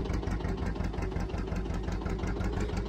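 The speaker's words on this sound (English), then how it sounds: "This tractor does seem incredibly loud." A loud tractor engine idles steadily in the Farming Simulator 19 game, a dense, continuous low rumble with a rapid, even pulse and no other sounds.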